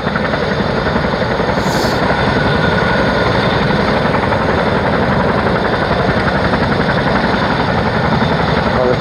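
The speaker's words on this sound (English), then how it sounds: "Army helicopter just landed to pick a load of probably cadets or something up." A British Army helicopter idles on a helipad, its engine and rotors producing a loud, close, steady throbbing drone with a constant rhythmic chop throughout.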